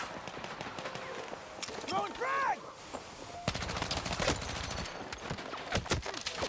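Rapid hip-fire bursts from guns in Battlefield 6, with dense automatic volleys and sharp single cracks, plus sci-fi warbling effects and a voice speaking partway through.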